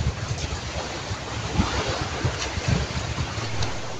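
Sea waves wash steadily at a beach resort, a constant rushing surf with low wind rumble and no voices.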